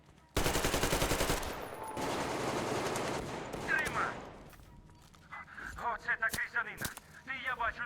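Rapid automatic gunfire in the video game Metro Exodus bursts loudly, then scattered single shots and game sound effects follow, with voices talking over parts of it.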